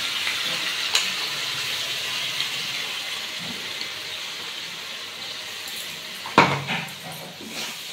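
A paste of ground onion, tomato, garlic, ginger and green chilli fries in a pan with a steady, close hiss. A sharp clatter and a louder sizzle burst come near the end.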